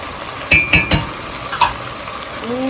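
A spoon scrapes and clinks against a pan as tomato and green chili paste masala for okra sabzi is stirred, a few sharp knocks over a soft continuous sizzle.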